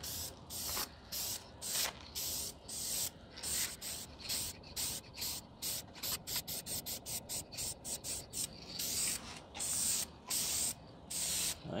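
Aerosol spray paint can hissing in repeated short bursts as a light first coat goes onto a 1998 Jeep Grand Cherokee outdoors in a back yard, with steady on-off rhythm and no talking.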